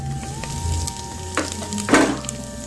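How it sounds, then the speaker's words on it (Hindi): Whole spices dropped into hot ghee in a pressure cooker on a gas stove, giving a steady close sizzle with two louder crackling bursts as they hit the fat, no talking. "घी गर्म हो गया है। अब मैं ये मसाले इसके अंदर डाल देती हूँ"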